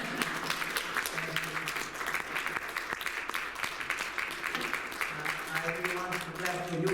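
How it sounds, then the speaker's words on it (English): Audience applause fills the room after a teaching presentation, a steady dense clatter of many hands that carries on throughout, with some voices talking over it. "May we clap our hands for your presentation?"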